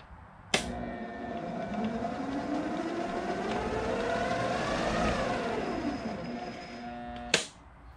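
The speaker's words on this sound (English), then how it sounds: "The motor seems to be bogging down." A Bridgeport mill motor starts with a sharp click, then whines and drones as its pitch slides and strains under load for several seconds before a second click cuts it off.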